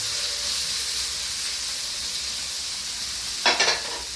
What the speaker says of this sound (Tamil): இதெல்லாம் ஒன்று ஒன்றா போய் போட்டு வறுத்து வச்சிடலாம் புதினா துருவிய நெல்லிக்காய்